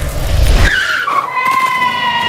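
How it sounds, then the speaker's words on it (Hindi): A car brakes suddenly, its tires screeching in a loud, drawn-out skid that rises and then holds as it slides to a stop, heard close and alone. "गाड़ी अचानक से रोक दी"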